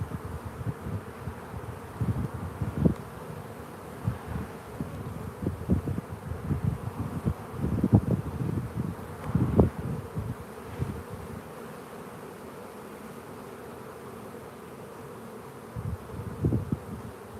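Honeybees drone steadily around an open hive during an inspection, a dense close buzz with louder swells as insects pass near, over faint rustling and no talk.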